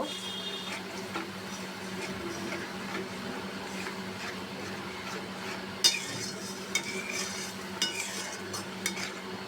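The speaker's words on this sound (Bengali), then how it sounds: "এখন আমি মশলাটাকে ভালো করে কষিয়ে নেব" Spice masala with cumin powder being fried and stirred in a pan, a low steady sizzle with soft scraping and occasional sharp utensil clicks, fairly quiet and close.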